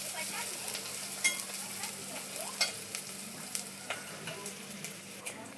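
Cumin and mustard seeds tempering in hot oil in a pan for a bhaji, stirred with a steady sizzle and crackle and several sharp spoon scrapes and clinks at irregular intervals, close and moderately loud, with no talking.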